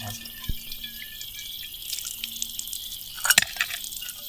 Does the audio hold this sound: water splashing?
yes